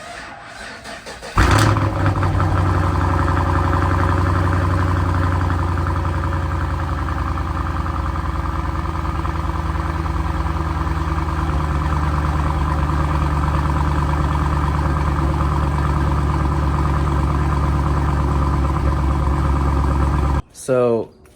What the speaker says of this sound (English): We'll do a cold start video now and a cold start video after.